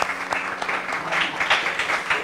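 Church congregation applauding during a sermon, a sustained wash of many hands clapping with uneven surges in loudness, close and full.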